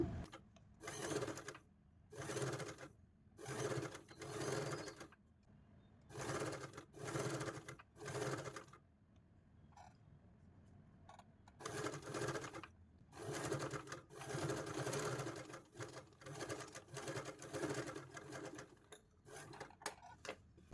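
A sewing machine stitching a V-neckline runs in short, regular bursts of rapid mechanical whirring, close and fairly quiet, with brief pauses between runs and a longer stop midway.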